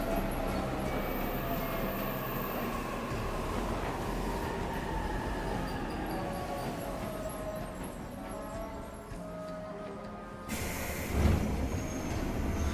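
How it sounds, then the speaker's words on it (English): A train in 13 Sentinels: Aegis Rim rumbles along with a steady, dense rolling clatter that holds for several seconds and then gives way to a sharper hiss and thump near the end. "so second train here"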